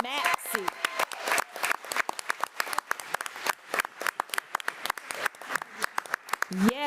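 A board meeting audience applauds a middle school girls' wrestling state champion, a sustained round of clapping from a room full of people with voices mixed in throughout.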